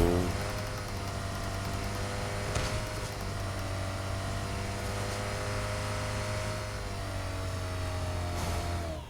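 A Koenigsegg supercar's engine runs with a steady, loud droning rumble and slowly rising harmonic tones, sustained throughout with no talk.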